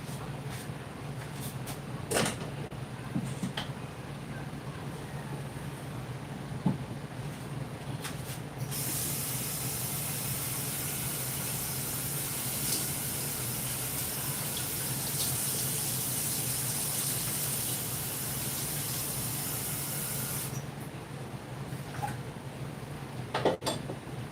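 Coconut juice pours into a pot with a steady splashing, rushing flow that runs unbroken for many seconds. Occasional clinks of pots and utensils sound behind it.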